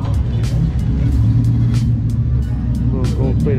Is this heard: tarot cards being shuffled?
no